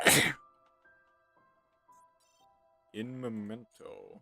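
A single sharp sneeze sounds close and loud at the start, followed by near silence with faint background tones, then a person speaks briefly.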